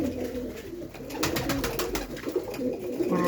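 A pigeon coos nearby in repeated low, rolling calls over a steady background hum.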